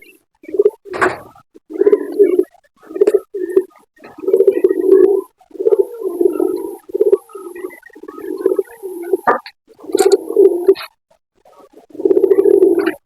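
Pigeons kept in a loft, including new breeding birds with young, coo in repeated low, throaty bursts close by, with short pauses between phrases and a few sharper calls mixed in.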